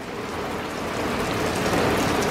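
Rain falls steadily outdoors, an even, close hiss of drops on surfaces with no talking over it.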